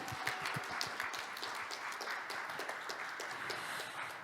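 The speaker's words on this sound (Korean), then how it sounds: "큰 박수 한번 부탁드리겠습니다" Applause from the audience at the closing ceremony of a disability forum in Pyeongchang, a steady dense clatter of many hands that holds at a moderate level through the whole stretch, with no talk over it.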